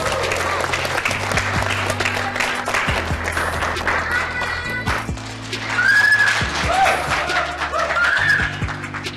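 Audience applause at a school stage show, a dense continuous clatter of clapping from a crowd that swells slightly partway through, with some voices and cheering mixed in.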